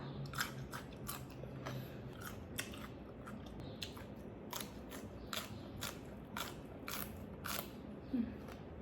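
Close-up eating of spicy pounded Thai rice noodles with blanched cabbage, soft wet chewing with sharp crunchy bites repeating irregularly throughout, fairly quiet.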